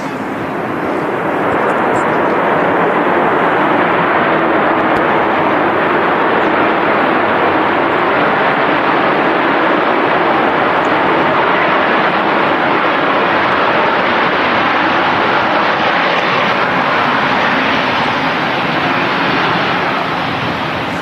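A Ryanair airliner arriving from Eindhoven roars loud and steady at Manchester Airport on a windy day, a broad continuous engine rumble that holds near and unbroken throughout.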